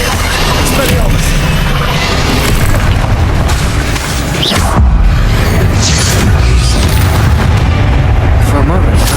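Confringo blasting-spell explosions in the Hogwarts Legacy video game, a loud, nearly continuous barrage of booming blasts and rumbling impacts layered densely over one another.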